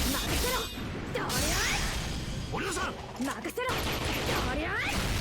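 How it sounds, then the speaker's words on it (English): Sakamoto Ryoma's Noble Phantasm in the Fate/Grand Order video game fires gunshots in a few bursts, mixed with whooshes and mechanical clatter, while a person talks throughout. "both of them shoot the gun"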